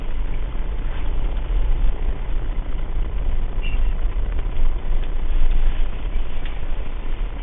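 A car engine drones steadily while driving on high-altitude roads in Ladakh, a continuous low rumble with no speech.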